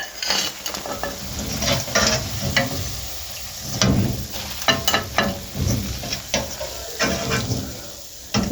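Pakoras fry in hot oil with a continuous hiss while a slotted spoon scrapes and clinks against the pan to lift them out, close and uneven, with no speech.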